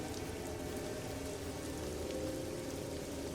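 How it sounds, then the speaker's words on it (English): Steady rain pours down in a spooky graveyard scene of a video game, a dense, even hiss of drops on surfaces with no break and no voices. "Let's go visit my father's grave in the rain."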